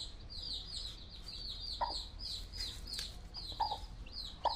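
A Yakut hen sitting on eggs while her chicks hatch, giving soft repeated clucks and murmurs, with high thin chick peeps running through, quiet and close against low background noise.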